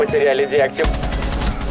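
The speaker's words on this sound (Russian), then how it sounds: "Снизу стреляют" Rapid bursts of gunfire crack out from below during a Rainbow Six Siege match, loud and rhythmic, following a short stretch of a game voice line.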